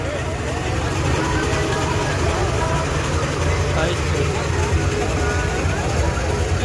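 Steady low rumble of a tractor engine idling near a Nagar Kirtan procession, continuous and close, with voices talking over the drone.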